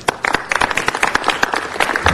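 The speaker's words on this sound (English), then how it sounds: "let's give a great round of applause to the students who did the work and who earned this great award" Audience applause at a city council meeting, a dense burst of clapping from many hands that stays steady and fairly loud for about two seconds, with no talking over it.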